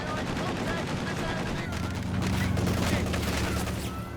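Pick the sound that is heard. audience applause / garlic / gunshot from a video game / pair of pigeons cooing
gunshot from a video game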